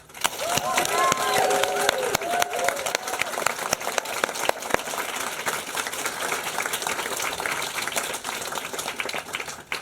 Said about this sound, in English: Please give them a massive cheer.